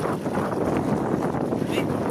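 Strong wind buffets the microphone outdoors, a steady loud broadband rumble with no break across the whole stretch.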